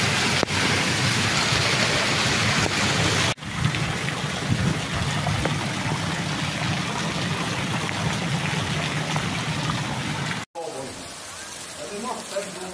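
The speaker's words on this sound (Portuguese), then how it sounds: "Ô, chuvona." Heavy rain pours steadily onto a street in Pernambuco, Brazil, a dense, continuous roar of water hitting pavement and sidewalks, loud and close throughout with a brief break near the end.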